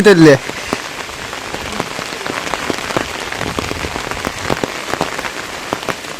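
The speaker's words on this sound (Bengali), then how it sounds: "হঠাৎ করে বৃষ্টিটা আসছে" Sudden heavy rain falls in a steady, dense hiss with scattered sharper drop impacts, after a brief voice at the start, heard close and continuous.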